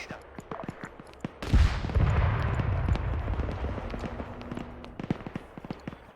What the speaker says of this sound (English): BMP's still shooting at him.